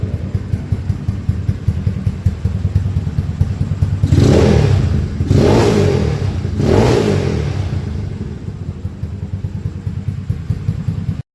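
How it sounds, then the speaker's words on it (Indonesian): A Yamaha Mio scooter fitted with a prototype exhaust idles, then revs up three times in sharp bursts, loud and close, settling back to a steady idle between them. "ini bisa dibilang knalpotnya adem banget suaranya"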